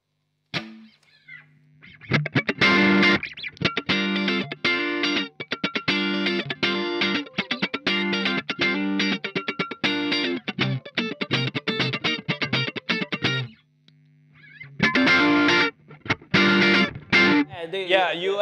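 Funk electric guitar through a Dophix compression pedal, bright choppy strummed chords in tight rhythmic bursts with short pauses, clean and close, no talking over the playing.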